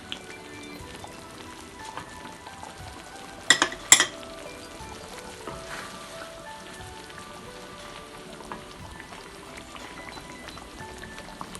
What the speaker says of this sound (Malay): Boleh kita masukkan badam kisar